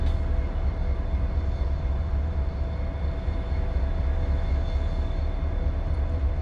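Steady low rumble of a Norfolk Southern freight train rolling through a rail yard in Columbus, Georgia, with faint metallic hum and squeal, continuous and fairly close, no voices.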